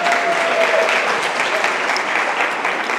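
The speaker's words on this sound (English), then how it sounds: "Can y'all clap it up for Miss Rika" Steady, dense applause from a school audience at a Columbus City Schools event, loud and continuous for the whole stretch with no talk over it.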